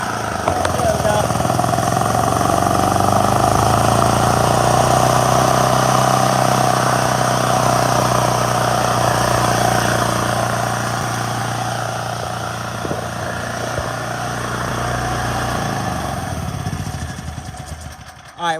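A generator engine runs steadily after its choke is opened, a loud continuous buzzing drone with a slight dip midway, then cutting off abruptly at the end.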